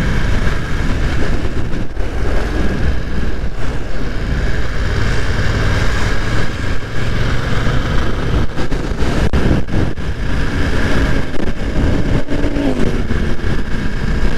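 Motorcycle engine on a busy street among crowds, heard over constant loud traffic rumble and engine drone that stays dense and unbroken, with a rising whine near the end as a bike passes close by.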